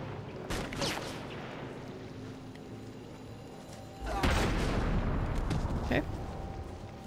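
Heavy shots and blasts in Batman: Arkham City, a few sharp reports early on and a louder, sustained burst of fire partway through, mixed with game sound and a brief spoken word.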